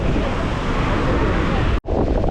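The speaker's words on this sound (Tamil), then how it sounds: "பாருங்கள் கடல் அலையை பாருங்கள். சும்மா ஜில்லு ஜில்லு ஜில்லுன்னு காற்று அடிச்சுக்கிட்டு" Wind buffets the microphone in a dense, roaring wash at the seashore of Visakhapatnam's Thenneti Park, waves surging underneath, near and loud, with one brief dropout toward the end.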